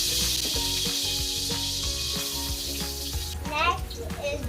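Garlic frying in oil in a pan for spaghetti, a steady bright sizzle that swells near the end, with faint speech and low kitchen noise beneath.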